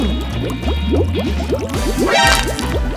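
Oil is poured in a steady stream of quick, gurgling glugs that rise in pitch as it flows, close and fairly loud, with no speech over it.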